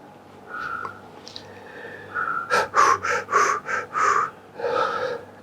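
A person getting a massage for a finger roots injury breathes heavily, with several loud, close gasping exhalations in a steady rhythm, then a softer breath at the end.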